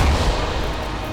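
Heavy cannon fire and explosions in the video game Silica, a continuous dense rumble of booms with strong low thuds near the start, loud and unbroken throughout.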